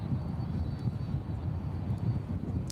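Airliner taking off from DFW airport, heard from the Founders Plaza plane-spotting area as a steady, distant low roar of jet engines that holds even for the whole stretch.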